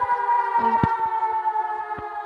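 A steady, sustained siren tone holds throughout, fairly loud, with a few brief knocks and thumps over it.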